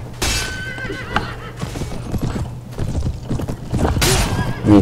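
A horse neighs loudly twice amid battle in the Mount & Blade Prophesy of Pendor video game, with hoof clatter, crashing impacts and a low steady hum between the whinnies.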